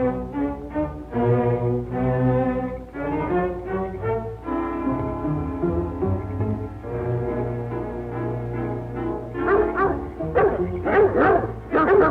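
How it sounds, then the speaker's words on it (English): Dogs bark and yip amid a dense film-score mix in a 1939 mystery drama, the barks rising more sharply toward the end over continuous orchestral music. "Hear those dogs?"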